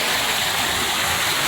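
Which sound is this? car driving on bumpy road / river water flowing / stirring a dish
river water flowing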